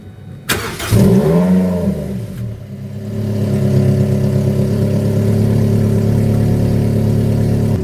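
A Toyota 1.8-liter four-cylinder engine cranks from cold and catches with a loud burst, revs briefly, then settles into a steady, close idle.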